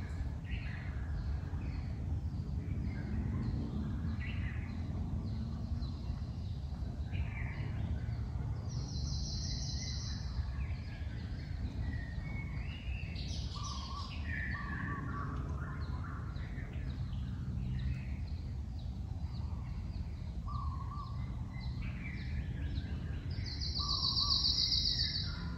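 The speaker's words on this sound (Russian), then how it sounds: "Птицы поют." Faint birds chirping and calling intermittently at a distance over a steady low outdoor rumble.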